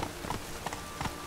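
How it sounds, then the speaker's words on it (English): Horse hooves clip-clop in The Witcher 3 video game, a few quick, faint, uneven hoof hits with no talking. "Please don't get in the way of the horse."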